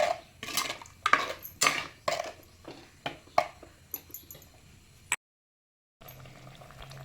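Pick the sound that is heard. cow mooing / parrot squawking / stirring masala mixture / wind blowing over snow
stirring masala mixture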